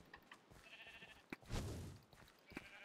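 A sheep bleats in the Minecraft game Sheep Quest, a short bleat near the middle among faint game sounds, with a few brief clicks.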